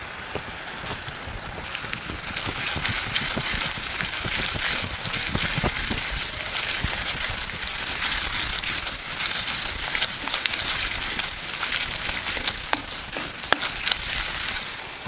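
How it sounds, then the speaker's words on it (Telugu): Ginger garlic paste sizzles in hot oil in a pan with fried onions, a steady close hissing crackle with scattered small pops, no talking. "ఒక 2 నిమిషాలు అల్లం వెల్లుల్లి ముద్దని వేగనిద్దాం"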